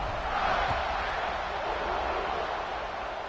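A stadium crowd roars at kickoff in a college football video game, a steady dense wash of cheering noise that holds level for several seconds with no clear voices.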